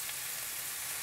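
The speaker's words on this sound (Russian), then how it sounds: "Пусть лучок снизу жарится, пока не перемешивайте." Onion, pepper and mushrooms fry in a pan for soup, giving a steady, soft hiss and crackle of sizzling, heard close with no talk.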